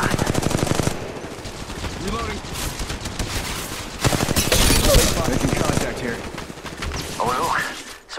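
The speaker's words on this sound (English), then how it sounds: "They're shooting at me. Firing." Rapid automatic gunfire in Apex Legends Mobile, loud, close bursts of many shots repeating through the clip with short pauses between volleys, overlaid by game voice lines.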